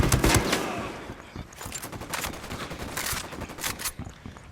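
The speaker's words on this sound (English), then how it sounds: "Opening fire on these fuckers." Rapid bursts of automatic gunfire crackle through a firefight in Ghost Recon Wildlands, a loud sustained volley at the start easing into steady scattered shots that keep going throughout, with no talking.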